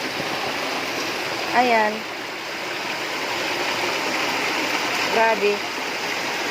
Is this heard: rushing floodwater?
yes